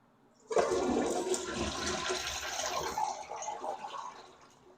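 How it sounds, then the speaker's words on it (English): A newly installed Niagara Stealth toilet flushes: a sudden rush of water that stays strong for a few seconds, then fades into the tank refilling, heard close up and alone. "let's give it one more flush"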